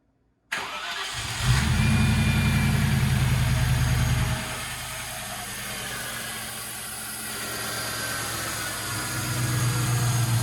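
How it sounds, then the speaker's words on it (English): A 1995 Land Rover Defender 90 engine starts and runs at a raised, steady idle, then drops to a lower, settled idle a few seconds later. The engine is close and loud, with a continuous low rumble and no talking. "the truck fires up, no issue. Nice high idle after you turn it over, and it settles out right about that nice 800 to 900 RPM range"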